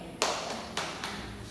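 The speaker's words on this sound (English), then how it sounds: "Give yourself a butterfly clap because you did your best today." A class gives a butterfly clap: a few soft, spaced taps at close range, quiet and brief, with a light background hum.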